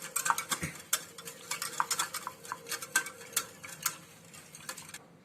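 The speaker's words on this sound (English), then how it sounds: "I'll be stirring it in one direction so that no lumps are formed" Spoon stirring saffron pistachio milk in a pot, steady rhythmic scrapes and light metallic clinks against the pot walls, close and fairly quiet, repeating in one direction without any voices.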